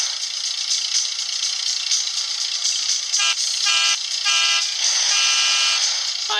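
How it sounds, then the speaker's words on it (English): A cartoon car horn in a kids' car racing video game honks in a few short, repeated electronic toots over busy, bright game music, loud and close. "if you touch the car, we honk our horn"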